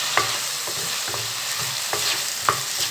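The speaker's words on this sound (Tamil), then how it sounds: "அதையும் இதோட சேர்த்துறேன். அதையும் நல்லா வதக்கி எடுக்கலாம்." Chopped tomatoes sautéing with ginger garlic paste for a chickpea biryani, with a steady sizzle under rhythmic spatula strokes and scrapes against the pan about every half second, close and fairly loud.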